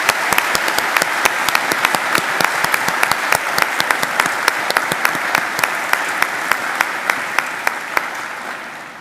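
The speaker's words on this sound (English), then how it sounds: "Ladies and gentlemen, please join me in giving them a round of applause." A graduation ceremony audience at Macquarie applauds the new graduates, a loud, full hall of continuous clapping with a few sharp individual claps standing out, sustained throughout before tapering slightly at the end.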